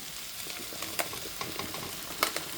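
Mushrooms frying in a pan with a few squirts of one-calorie spray give a soft, steady sizzle with scattered crackles and small pops, fairly quiet and close.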